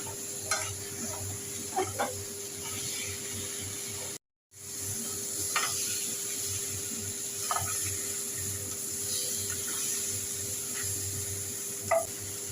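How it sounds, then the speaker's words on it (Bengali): Crabs sauté with masala in a pan under a faint, steady sizzle, with scattered stirring clicks and scrapes and a short silent gap partway through. "তাহলে মশলাটাও আর একটু কষানো হয়ে যাবে, কাঁকড়াগুলোও কষানো হয়ে যাবে মশলার সঙ্গে।"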